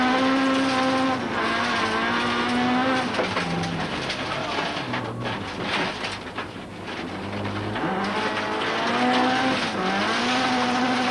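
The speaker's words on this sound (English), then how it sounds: "Going back in car with Damso, watch out for how he almost spins the car, but recovers superbly, hardly missing a beat." A rally car engine screams through several gear changes on a stage of the 2003 Cape Rally, pitch rising and dropping as it nearly spins, a loud skid and tire scrub swelling mid-pass before the revs climb again.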